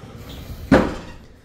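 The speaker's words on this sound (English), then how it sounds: "We got the sliding doors here." A hotel bathroom sliding door is pushed open with a single short, sharp rolling thud, close by, against quiet room tone.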